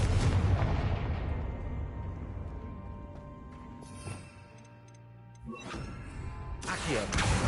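A Confringo fire spell explodes in Hogwarts Legacy, a loud blast opening the clip and decaying away, followed by scattered magical crackles and later fresh bursts of impact noise.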